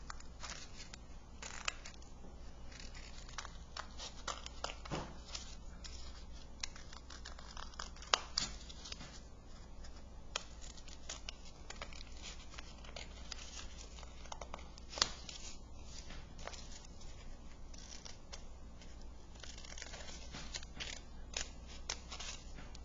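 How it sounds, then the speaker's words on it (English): Scissors cut paper shapes for a texture and radial design art lesson, making faint, irregular snips with soft paper rustling and crinkling at close range. "I'm going to go around now and I'm going to cut all of my shapes out."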